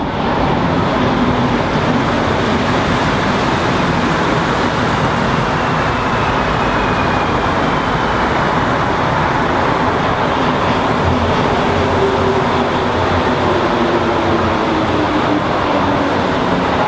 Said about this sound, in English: The train's in less than a minute.